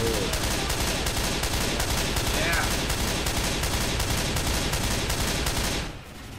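Sustained heavy gunfire in Left 4 Dead 2, loud continuous bursts from several weapons during a zombie fight, rattling nonstop for about six seconds before easing off.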